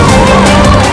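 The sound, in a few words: fire brigade and police vehicle siren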